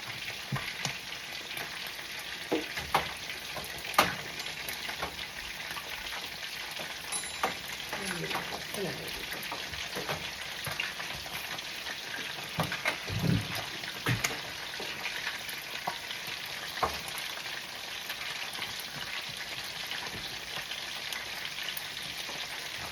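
Rice and peas boil in a pot for a Sunday dinner, giving a continuous close hiss and bubbling sizzle with occasional pops and stirring knocks throughout.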